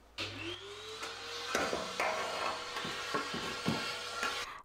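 A Hoover vacuum cleaner sucks dust from a radiator, its motor whining up to a steady drone, then broken by repeated knocks and bumps as the nozzle moves along the metal, close and loud.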